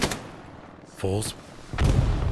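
Gunfire in the console game Hell Let Loose, a few sharp shots around a short harmonic tonal sound, then a louder rumbling burst near the end, all fairly close.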